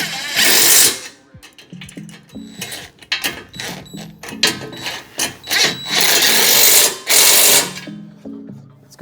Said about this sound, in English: we take our 1/2" socket and wrench and we go down and we tighten all these down.